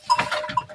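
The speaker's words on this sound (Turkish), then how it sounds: "O da koyun mu, koç mu?" Sheep or rams bleat in a flock of lambs and black sheep, a few short, close, nasal calls in quick succession with no talk.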